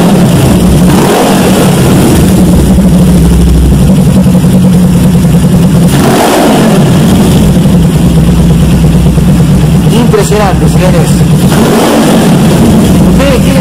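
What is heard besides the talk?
Suzuki GS 500 street tracker motorcycle engine idling and revving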